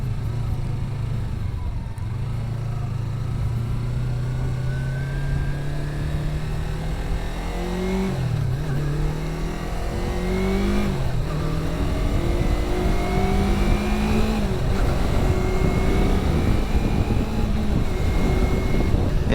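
A Yamaha R3 motorcycle fitted with an R6 throttle tube revs repeatedly while riding on the road, engine pitch rising and falling in steady sweeps under constant wind rush.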